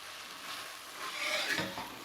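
Onion and cheese stirred in a hot pan for a Cajun dish, giving a faint, even sizzle with a soft scrape or two near the end and no talking.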